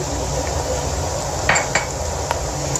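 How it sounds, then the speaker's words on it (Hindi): Garlic goes into a pan of frying bitter gourd and onions, giving a steady close sizzle with a few bright clinks of a utensil against the pan. "अब हम इसमें ऐड करेंगे लहसुन"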